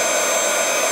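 A hair dryer blows in a steady, loud, close whoosh with a constant high whine, running alone without pause for about a second.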